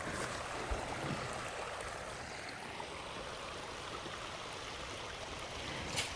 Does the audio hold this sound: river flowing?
yes